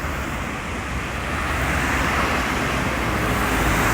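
Steady roar of road traffic on a Japanese street with passing cars, K-cars and vans, a continuous broad wash of tyre and engine noise rising slightly, with no single vehicle standing out.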